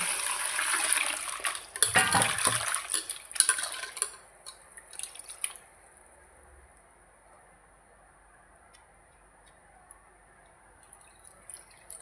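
Mushrooms washed under running water: water splashes and rushes for the first few seconds, then fades to a faint trickle and quiet drips.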